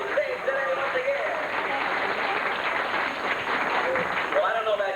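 An audience at a 1989 Sea Arama bird show applauds steadily, with voices and cheering mixed in, at an even volume throughout.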